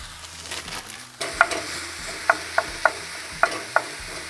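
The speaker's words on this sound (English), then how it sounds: "Our mince is starting to bubble away, sort of cook down." Mince cooking down with softened onions in a pan, a soft low bubbling sizzle with sharp metallic clicks and scrapes of a utensil against the pan at irregular intervals, fairly quiet and without speech.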